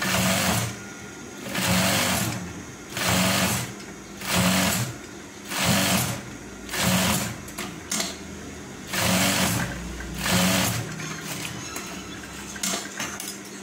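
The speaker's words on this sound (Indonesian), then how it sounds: "Jahit leher dari luar sekitar setengah senti." A sewing machine stitches a shirt collar about half a centimetre from the outer edge, running in roughly eight loud, even bursts of rapid whirring separated by short pauses.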